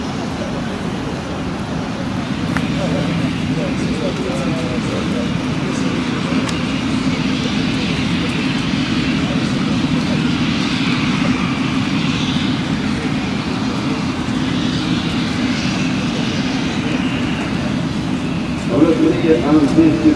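An Antonov An-225 Mriya on landing approach at the Aviasvit 2008 air show gives a steady, broad jet engine roar that holds throughout, with a brief louder swell near the end.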